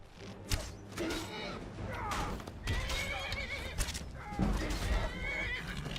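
A horse in the video game Skyrim whinnies loudly several times while bandits attack it, over a busy, noisy backdrop with hoof clatter and scuffling action sounds mixed in.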